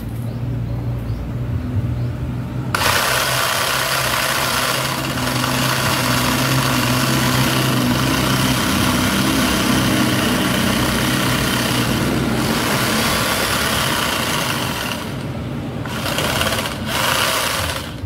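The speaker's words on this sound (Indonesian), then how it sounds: "Saya akan menggunakan gergaji." A saw cuts into a bonsai tree trunk, starting with a loud continuous mechanical buzz after a few quiet seconds, holding steady and briefly dropping out a couple of times near the end.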